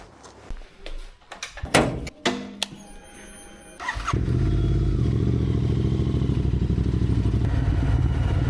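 A few clanks and clicks, then a Royal Enfield Continental GT 650 motorcycle engine starts and settles into a steady, close, loud idle with a throbbing low rumble.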